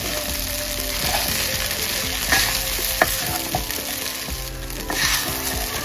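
Sabudana (sago) sautéing in a pan gives a steady, close sizzle, with soft scraping stirs and occasional spoon taps throughout.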